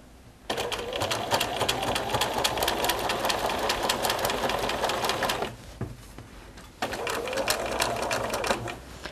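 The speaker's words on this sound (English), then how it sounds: "Once you come to sewing over the 2 pieces of piping which will be together, you need to go very slowly so as to not jar your machine." A sewing machine stitches through fabric piping on a notebook cover in a steady, close whirring run, stopping briefly near the middle before starting up again.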